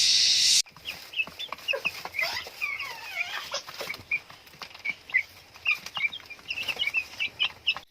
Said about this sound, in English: these are our other 3 chooks. They're pretty good layers.